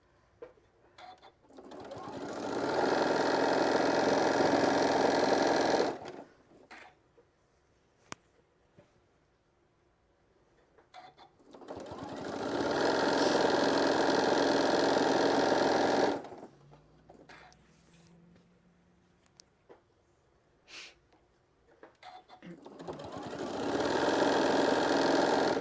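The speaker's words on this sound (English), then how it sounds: "I'm just going to keep on making sure I'm using every bit of that 1/4 inch so it completely covers all of that serging that I had just done." A sewing machine stitches over serged edges on a fabric shoulder wrap in three long, even whirring runs of several seconds each, separated by quiet pauses with small handling sounds.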